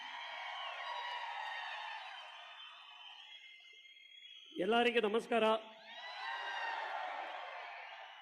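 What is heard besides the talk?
audience applause for director Vijay Karthikeya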